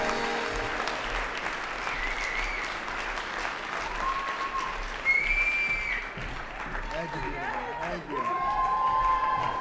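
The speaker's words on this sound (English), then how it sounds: "let's give him a round of applause." Audience applause fills the hall at a 2015 regional Emmy awards ceremony, a steady broad wash of clapping with some cheering, lasting throughout with brief tonal sounds over it.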